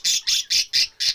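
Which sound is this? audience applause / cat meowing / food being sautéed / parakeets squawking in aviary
parakeets squawking in aviary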